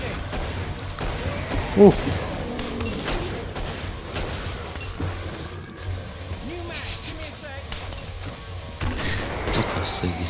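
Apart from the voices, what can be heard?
gunfire from a minigun in a video game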